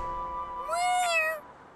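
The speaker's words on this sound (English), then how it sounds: "Oh, it's a cat." A cat gives a single clear meow, fairly close and alone, rising and then falling in pitch over about a second in a quiet cartoon setting.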